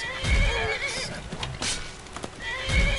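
A horse in Skyrim neighs loudly with a shrill whinny at the start and again at the end, with hooves clopping and thumping in between.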